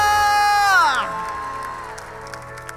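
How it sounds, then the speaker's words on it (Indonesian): A church congregation at a Christmas service erupts into cheering and applause after a sustained, falling vocal cry, then the clapping and shouts fade to a lower, steady crowd wash. "kasih tepuk tangan lebih meriah untuk Tuhan Yesus"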